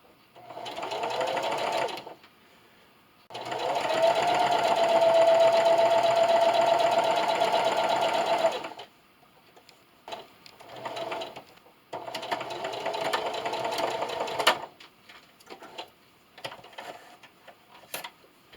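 Domestic sewing machine stitching along the edge of a towel, running in three close, steady bursts of whirring with short pauses between, the longest run in the middle, then a few light mechanical clicks.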